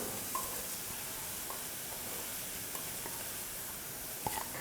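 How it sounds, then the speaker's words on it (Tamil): Ground coconut hits a hot kadai and sizzles with a faint, steady hiss, broken by a few soft stirring taps close by. "கடாய் நல்லா சூடேறினதுக்கப்புறமா அரைச்சி வச்சுருக்கிற அந்த தேங்காவை சேர்த்துக்க போகிறேன்"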